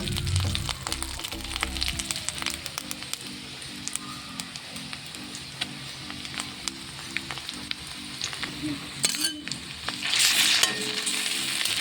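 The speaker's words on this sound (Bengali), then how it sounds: "পেঁয়াজের সঙ্গে আদাটাকেও একটু ভালো করে লাল করে ভেজে নেব।" Onion with ginger paste frying in oil in a village kitchen, a soft continuous sizzle with regular stirring scrapes, close and alone, ending in a brief louder hiss.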